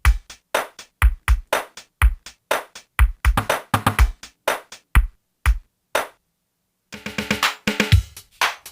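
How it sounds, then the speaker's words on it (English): Drum break loop from a Doctor Rhythm drum machine, pitched down an octave with a shortened envelope and gain automation: tight, punchy kick and snare hits in a fast chopped rhythm, a brief gap, then a denser burst of hits. "So I made the envelope even shorter and I pitched it down 1 octave"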